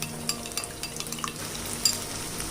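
Masala spices fry in a pan with a steady, close sizzle and scattered light clinks of a spoon stirring against the metal.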